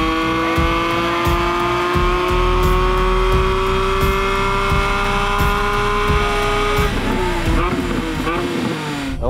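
A drift car engine revs hard in repeated bursts, loud and close, then the pitch drops as tires squeal briefly near the end.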